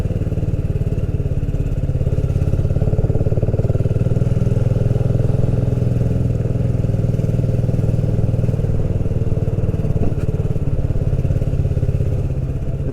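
A motorcycle rides through a town in the Algarve, its engine holding a steady, continuous drone close by with no talking over it.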